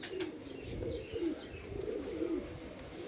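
Soft low cooing from a pigeon, faint and repeated over a steady murky background hum, with no talking.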